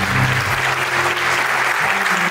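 Audience applause at a municipal anniversary ceremony in Kehtna parish, Estonia, a steady, dense clapping from a hall crowd lasting throughout, loud and even with no speech over it.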